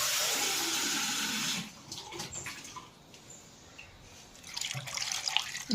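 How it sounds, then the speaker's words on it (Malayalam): Water gushes steadily into a pot of elephant foot yam pieces, eases to a trickle, then pours strongly again at the close, with no voices. "ഇനിയിപ്പോൾ നമുക്ക് ഇതിനകത്ത് നികക്കെ വെള്ളം ഒഴിക്കണം."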